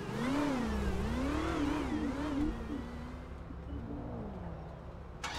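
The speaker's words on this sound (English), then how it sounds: "Can y'all hear the engines and stuff?" A car engine revving in the video game GTA 5, a loud wavering drone that rises and falls in pitch, then settles into a steadier idle hum with a brief burst at the end.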